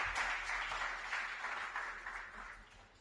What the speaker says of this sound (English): thank you again with a round of applause to the councilman